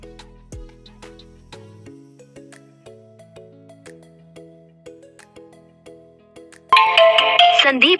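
A custom ringtone plays from a phone as a simple melody of clear stepped electronic tones, ending in a louder burst of a synthesized voice, heard alone and close.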